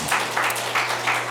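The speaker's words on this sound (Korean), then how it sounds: "큰 박수 다시 한번 부탁드리겠습니다, 여러분." Audience at a suicide prevention policy seminar gives a round of applause, a steady wash of clapping lasting the whole short stretch at moderate loudness.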